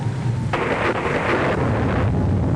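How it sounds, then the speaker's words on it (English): Heavy thunderstorm in a 1939 aviation adventure film, a dense continuous roar of wind and rain with rumbling thunder swelling in loud bursts and no voices over it. "The center of the storm has hit us."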